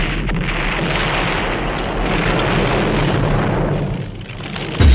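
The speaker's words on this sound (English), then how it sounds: "Who's got the rocket launcher? I say we blow it up." A rocket launcher fires and explodes with a sustained, loud, rumbling roar that fills the clip, swelling slightly before a short burst near the end.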